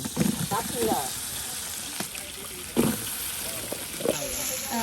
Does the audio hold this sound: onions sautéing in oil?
yes